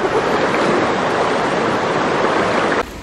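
Strong rushing current at Verdivia Falls in Bulacan after a typhoon, a loud, dense, continuous roar of churning water close by that barely changes throughout.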